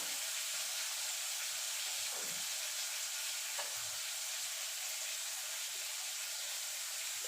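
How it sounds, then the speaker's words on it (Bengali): Oil heating in a hot wok, a faint, steady hiss and sizzle throughout with a couple of soft knocks, quiet and even, with no voices. "এবার আমি কড়াইতে তেল দিয়ে দেবো।"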